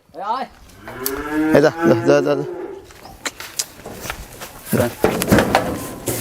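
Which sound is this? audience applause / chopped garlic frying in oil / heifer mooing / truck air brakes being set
heifer mooing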